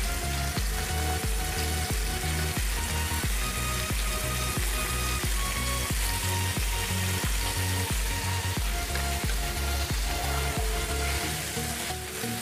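Paneer cubes fry gently in a kadai until light brown, giving a steady, loud sizzle throughout, with regular rhythmic thumps and sustained tones running underneath.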